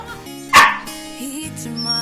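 A dog gives one sharp, loud bark partway through, with quieter indoor background sound before and after it.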